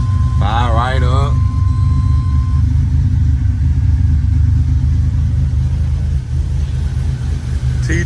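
A 1987 Buick Grand National with a 3.8-litre turbocharged V6 starts and settles into a steady, loud, close idle rumble, with a brief voice near the start.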